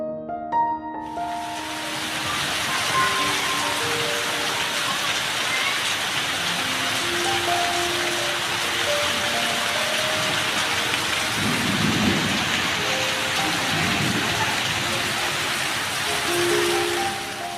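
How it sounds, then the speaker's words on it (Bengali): Heavy downpour outside pours in a dense, constant roar, loud and close, while low thunder rumbles roll through the wash now and then, with no voices. "কিছুক্ষণের মধ্যেই বাহিরে মুষলধারে বৃষ্টি শুরু হয়ে গেছে"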